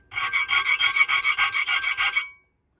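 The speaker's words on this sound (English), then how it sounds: "Get your file, even with that angle, and lightly clean up the top of that tooth." A hand file rasping across the teeth of a hole saw clamped in a vise, about a dozen quick, evenly paced strokes in a row, close and crisp, then stopping into silence.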